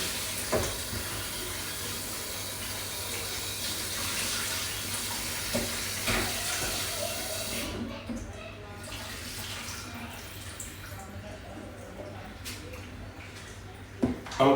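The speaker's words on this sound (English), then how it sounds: "I'm just gonna wash the Irish and the pumpkin to get that ready to put in the pot." Tap water runs continuously as Irish potatoes and pumpkin are washed in a kitchen sink, a steady hiss and splash that drops away midway, followed by quieter handling sounds and a few clunks.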